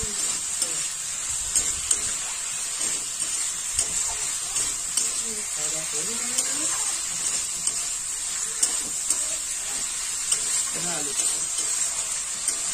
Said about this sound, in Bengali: দেখুন আমি দু তিন মিনিট ধরে আমি ভালো করে কষিয়ে নিচ্ছি